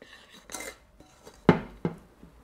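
A spoon working salt and sugar into dough ingredients in a bowl, a few soft scrapes followed by two sharp metallic clinks, close and brief, no speech.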